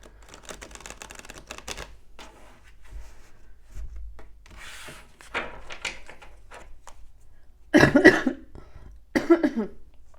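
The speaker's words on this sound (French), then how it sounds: "Pardon, je tousse encore." Quiet rustling and faint movement, then two loud, harsh coughs close by near the end.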